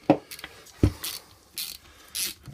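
Ratchet wrench clicking as bolts are snugged evenly around the housing during reassembly of a Hurth HWB-10 marine transmission, with several short bursts of ratcheting separated by pauses, close and fairly quiet.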